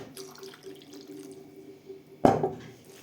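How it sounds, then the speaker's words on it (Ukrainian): Water runs steadily in the background while preparing goat meat for sausage, then a louder splash or pour surges in near the end, close and distinct, with no talking. "Це вода."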